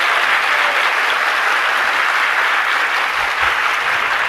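Sustained applause from an audience in a sermon hall, a dense, even wash of clapping hands that holds steady throughout without pause.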